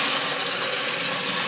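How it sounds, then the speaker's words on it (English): Water rushing into a toilet tank to refill it after a flush, through a float-operated fill valve, as a loud, steady hiss close by, with no talk. "When this goes down, the water will come in."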